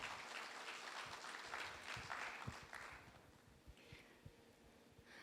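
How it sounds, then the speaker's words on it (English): Audience applause for the panelists at the close of a WorldSkills closing plenary session, a steady wash of clapping from a hall crowd that thins and tapers toward the end, with a few louder individual claps standing out. "A big round of applause to all of our panelists, please"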